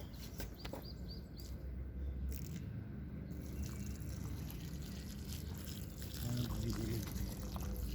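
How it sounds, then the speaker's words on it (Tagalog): Water is poured onto newly planted lettuce in a garden, a soft trickling and dripping under steady outdoor background noise, with a voice talking at times and birds faintly heard. "Ngayon lagyan na natin ng tubig."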